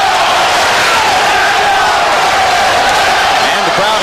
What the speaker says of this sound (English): And the crowd at ringside chanting, Zeljko, Zeljko.